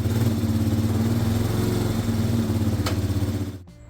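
A 1997 Yamaha Big Bear 350 4x4 ATV engine runs loud and close with a steady, throbbing idle, then cuts off abruptly just before the end.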